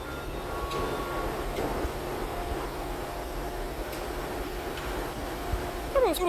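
A monorail train runs at a station while someone waits on the platform, a steady mid-distance rumble and rolling hum with faint rhythmic clicks, rising slightly at the very end.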